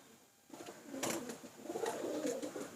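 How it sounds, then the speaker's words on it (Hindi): Rampuri pigeons give soft, low cooing calls close by in a quiet setting, a few gentle murmuring phrases. "ये भी बहुत शानदार कबूतर है।"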